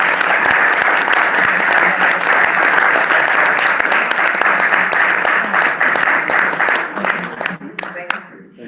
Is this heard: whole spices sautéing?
no